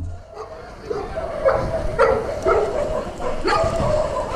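A dog barks in short, repeated yips amid an outdoor kite-flying scene, its barks mixed with nearby shouting voices and commotion.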